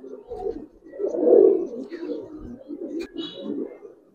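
Giribaz and coloring pigeons coo repeatedly at close range, soft throaty rolling calls swelling and fading over a few seconds with faint background noise.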